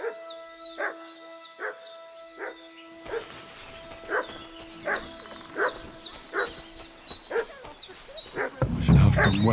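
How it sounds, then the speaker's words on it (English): Dog barking in the medieval village world of Kingdom Come: Deliverance II, a steady series of sharp barks repeating about twice a second, moderately near, over ambient game noise with a louder rustle at the end. "What's that dog making such a fuss about?"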